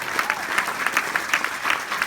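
Audience clapping at a ranch horse sale in Thermopolis, Wyoming, a short burst of crowd applause with uneven claps close by, no talk over it.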